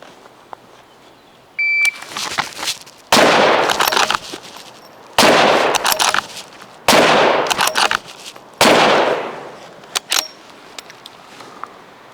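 Four loud, sharp rifle shots ring out outdoors in the woods, spaced roughly two seconds apart, each followed by a short ringing decay, with faint mechanical handling noises in between.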